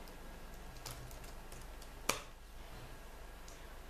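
Sparse computer keyboard typing while entering the cfdisk command on Arch Linux: a few soft key taps and one sharper click, close and quiet, with no one speaking.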